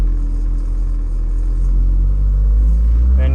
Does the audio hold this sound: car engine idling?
yes